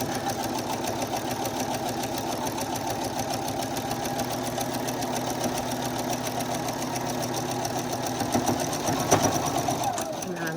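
A sewing machine stitches a bag seam in one long, steady, close run with a rhythmic mechanical hum, briefly louder near the end, with a person talking faintly over it.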